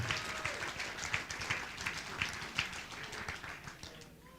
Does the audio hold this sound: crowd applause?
yes